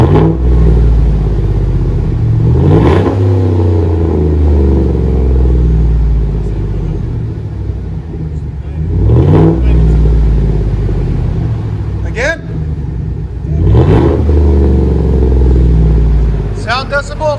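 A Chevy Silverado 5.3L V8 with aftermarket exhaust (muffler and tips) idles with a steady deep rumble, then gets several sharp throttle blips that rise and fall, close and loud; people talk briefly between revs.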